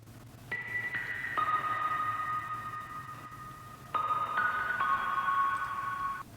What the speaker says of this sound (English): I have added this plug sound.